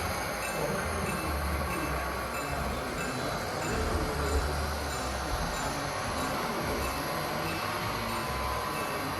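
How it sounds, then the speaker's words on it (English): A model train locomotive runs on a layout, giving a continuous, even rumble with a light rattle and a faint high squeal that holds steady throughout, with no voices. "I have one of my locomotives here"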